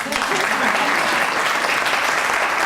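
Sustained applause from a lecture audience, dense and steady clapping that fills the whole stretch at close range, with a few voices mixed in underneath.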